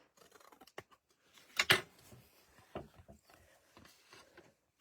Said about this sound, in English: I'll just snip those off.